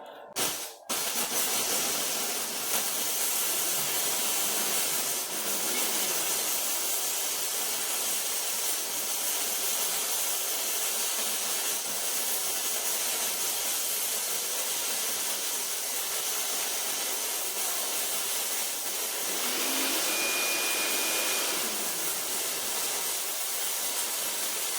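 An AWT Mig 100 handheld flux core welder lays a single pass along a deeply chamfered joint, giving a continuous crackling hiss that holds steady for about twenty-five seconds after a sharp start.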